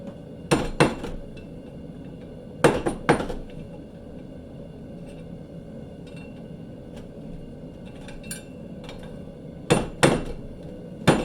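Metal belt rings are hammered over a cone mandrel on an anvil: sharp, ringing hammer blows arrive in pairs and clusters separated by quiet pauses, close and loud, with faint scrapes and light taps between and no talking.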